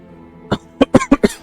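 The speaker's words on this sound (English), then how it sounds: "Just a bit of the coughs." Five quick, sharp coughs in a short burst, close and loud, with no speech around them.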